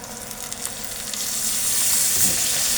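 A pickle mixture is stirred in a hot pan, giving a continuous close sizzle and frying hiss that swells slightly louder through the short stretch, with no talk.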